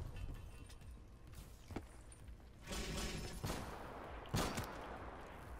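Rapid gunfire in the video game Black Ops III: quick bursts of shots with sharp cracks and a few louder blasts over a steady background, fairly faint and distant, with no voices.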